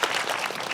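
Audience applause at a Seoul Independent Film Festival screening talk, a dense, steady clapping from the crowd that fills the whole short moment without gaps.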